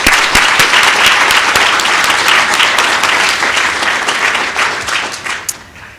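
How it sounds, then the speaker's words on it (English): Audience applause at a Board of Education special meeting honouring high school seniors, a dense sustained round of clapping from a large crowd in a hall, loud and steady before gradually thinning out at the end. "So let's just give them one more round of applause."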